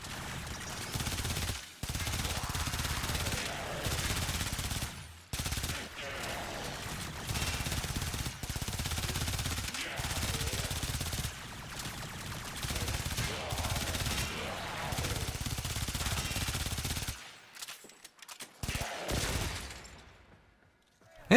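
The Baza Prime rifle in Warframe fires in long, dense automatic bursts, loud and close, broken by a few brief pauses before a quiet stretch near the end.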